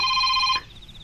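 A real mobile phone rings with a steady electronic tone, loud and close, then cuts off abruptly after about half a second, leaving a faint fading echo.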